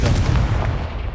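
A Confringo blasting spell from Hogwarts Legacy goes off as a single loud, close burst with a dense rumbling roar that stays strong through its brief length.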